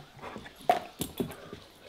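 A dog whimpers in a few short, soft cries spaced apart, close by and quiet, with no talking.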